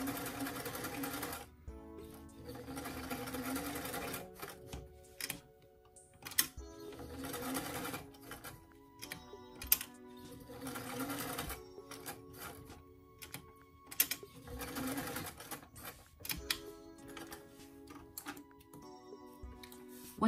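A sewing machine runs in repeated bursts, stitching a collar onto a small doll shirt with a longer basting stitch, its whirring motor starting and stopping close by with brief pauses between runs.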